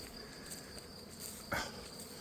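Honey bees humming steadily among the hives of an apiary in spring, with black locust trees in bloom, a faint, continuous buzz with one brief louder pass near the end.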